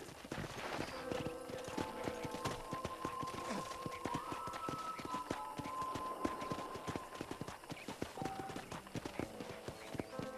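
A horse's hooves clip-clop at a steady walking pace in Red Dead Redemption, close and rhythmic, with faint tonal music and ambient sounds in the background.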